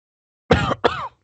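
Two quick, harsh coughs close to the mic, back to back, then silence.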